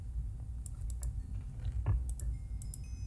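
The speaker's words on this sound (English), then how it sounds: "I don't know if you can hear my keyboard." Computer keyboard keys tapped while playing a Minecraft Hexxit modpack, faint scattered clicks in irregular bursts over a low background hum.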